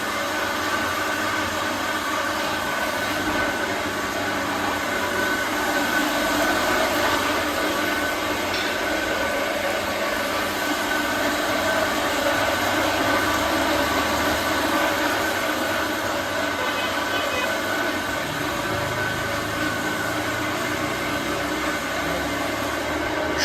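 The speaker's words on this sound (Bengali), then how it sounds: "দেখতে পাচ্ছেন ভাই এখন মোটর স্টার্ট করলো" An old ship motor rewired to run a single-phase rice mill hums with a loud, steady mechanical drone and whir, holding constant for the whole stretch with no voices.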